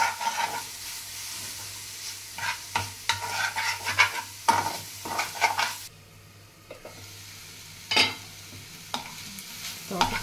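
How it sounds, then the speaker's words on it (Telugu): Amaranth leaves frying with chili powder in a pan, stirred in bursts of scraping and clattering over a soft sizzle, loud and close, with a brief quieter pause midway and no talking. "కొద్దిగా కారం పొడి చల్లి బాగా కలుపుకోవాలి"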